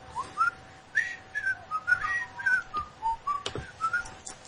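A person whistles alone at a podcast microphone: a fairly quiet, wandering tune of short, bright notes with brief pauses between them, and one sharp knock near the end.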